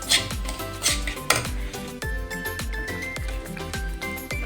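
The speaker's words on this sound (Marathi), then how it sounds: "तर इथं मी रवा भाजून घेते आहे." Semolina (rava) roasts in a metal pan as a spoon stirs and scrapes, making regular clinking and scraping strokes up close, with no talk.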